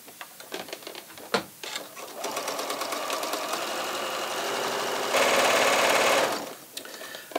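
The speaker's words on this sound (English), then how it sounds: "I'm going to continue sewing until I sew right to the end over here." A sewing machine runs steadily as it stitches a knit strip onto a V-neckline. Short bursts of stitching give way to a longer continuous run that speeds up briefly near the end, close and fairly loud.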